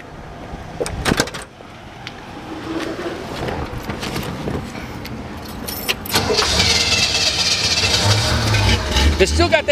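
Keys jangle and a door handle clicks before a 1967 Chevrolet Camaro convertible's engine cranks and catches, then settles into a rising, steady rumble close by as a person talks.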